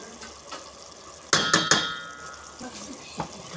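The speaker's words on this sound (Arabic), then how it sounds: "هقلب كده" A spoon scrapes and clatters in a pot of chicken marinade spices, with a few sharp metallic knocks in a cluster followed by quieter stirring, fairly close and moderately soft.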